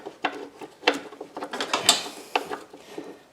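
A hand ratchet starts bolts into the timing belt cover of a 2004 Toyota Sienna 3.3L, giving close, loud, uneven bursts of clicking pawl strokes with short pauses between them.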